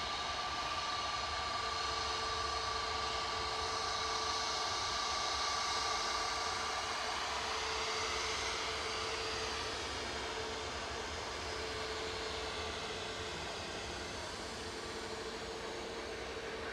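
An EasyJet airliner approaches at Manchester Airport, a steady loud broadband roar with a whining engine tone that swells and then holds, heard alone with no talk.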